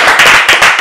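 A comedy show audience in Abidjan gives a short burst of loud clapping, a few rapid close claps in quick succession that stop within a second.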